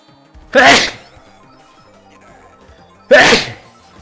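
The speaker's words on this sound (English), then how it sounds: "Trying to play game while looking away from it to sneeze is really hard" Two loud sneezes about two and a half seconds apart, close to the microphone, during a Mario Kart DS session, with faint game music between them.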